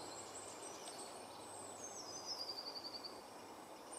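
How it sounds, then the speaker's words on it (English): Faint woodland birdsong drifts in from a distance in spring, with thin high chirps and a short trilling run over quiet outdoor air; birds include blue tit and nuthatch. "But the birds are singing lovely."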